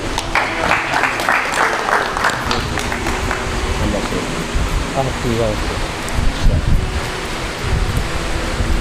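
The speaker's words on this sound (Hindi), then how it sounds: "इसके लिए भरपूर तालियां।" Broad, steady crowd applause at a poetry gathering fills the clip, a dense wash of clapping that continues throughout with mixed voices faintly beneath it.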